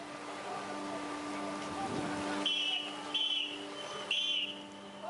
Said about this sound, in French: un coup de sifflet ne sert à rien lorsqu'il s'agit d'arrêter un énorme navire